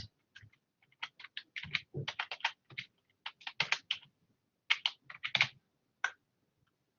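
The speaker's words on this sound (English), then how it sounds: "then you're going to type it in and put your date" Close computer-keyboard typing while a date is entered into an online scholarship form: irregular bursts of crisp keystroke clicks separated by short pauses.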